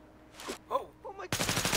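Dense burst of automatic gunfire in The Division's Dark Zone breaks out loud and close after a second of short groaning vocal sounds, then runs steadily to the end.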